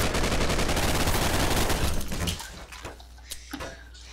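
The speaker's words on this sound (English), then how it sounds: "now I got a good weapon to shoot" Rapid gunfire from a weapon in the multiplayer shooter Double Action Boogaloo, a loud dense burst for about two seconds that cuts off, then a few scattered fainter shots and clatter.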